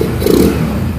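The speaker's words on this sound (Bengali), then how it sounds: "তো বাইকটির আপনার ইঞ্জিনের সাউন্ড দেখুন" A Bajaj Discover motorcycle engine with its air cleaner removed runs at a steady idle, close and loud, with a slight rev swell and a rough mechanical clatter throughout.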